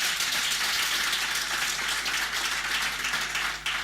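Steady applause from an audience at a public address on Microsoft's investment in South Africa, a dense, continuous wash of clapping that holds at an even level for several seconds before easing slightly at the end.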